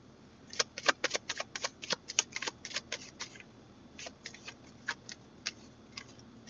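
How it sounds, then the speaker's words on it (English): Tarot cards are shuffled by hand, giving a run of crisp, close snapping clicks in uneven bursts that thin out toward the end, with no voices. "All right, we're going to finish the shuffle."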